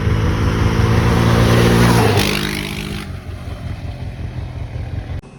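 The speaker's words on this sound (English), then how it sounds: "you can really hear that motor, just valves and mechanical things and such like that" A 2022 Yamaha Raptor 700R ATV on a trail, its engine and factory exhaust droning loudly up close, then dropping to a lower, rougher rumble as it rolls on.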